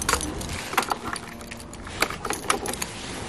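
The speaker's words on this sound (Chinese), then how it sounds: "把家里钥匙和电动车钥匙挂一起吧" A big bunch of house keys and electric scooter keys hung together, jangling close with bright metallic clinks in short bursts, no voices.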